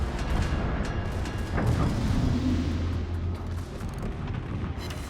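Deep booming salvo from the battleship Scarlet Thunder's main guns in a naval video game, a heavy continuous rumble with a sharper report near the middle, loud and sustained throughout.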